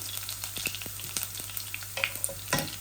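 Garlic and onions frying in a pan for a Bangladeshi home-style curry, a quiet steady sizzle broken by soft clicks and scrapes of stirring, with a louder crackling burst near the end.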